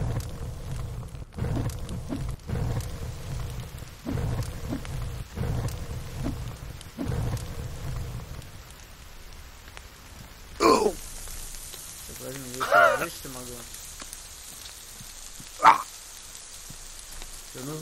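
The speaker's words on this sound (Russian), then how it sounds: "Все, ладно, пошел дождь, меня спас." Steady rain hiss in the video game The Forest, with low rumbles and a few sharp synthetic bursts, game-like ambience, voices talking over parts of it.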